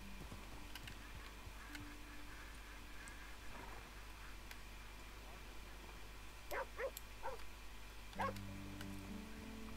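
Dog barking in a hunting video game, several short sharp barks a little way off, bunched together in the second half over a steady ambient background.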